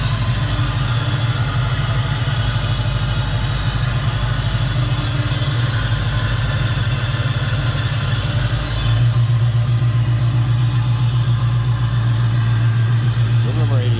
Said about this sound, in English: aluminum radiator, some electric cooling fans on there. Smooth runner.